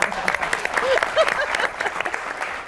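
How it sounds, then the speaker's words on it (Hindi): Studio audience applause on a Pakistani TV talk show, a steady dense burst of clapping with a few voices mixed in throughout. "आपने बिल्कुल सही ताली बजाई"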